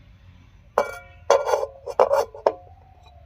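A lid set down on a cooking pot while bottle gourd greens are steamed, giving a few close, sharp metallic clinks and rattles, the last one ringing on briefly before quiet.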